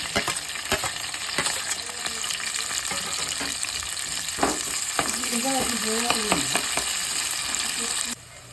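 Chopped onions frying in a pan for a mutton curry, a loud, steady sizzle with occasional stirring scrapes, heard close up with no talking.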